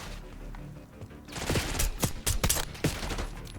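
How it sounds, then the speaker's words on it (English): Gunfire in the Call of Duty: Black Ops 6 campaign, a burst of several loud sharp shots in quick succession after a quieter opening, then a few more spaced blasts over a steady game background. "I have to shoot my way out now"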